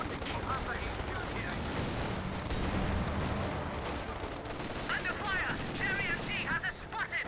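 MG-34 machine gun fire in the Company of Heroes 2 strategy game, a dense continuous rattle of bursts and battle noise throughout, with a caster's voice talking over it.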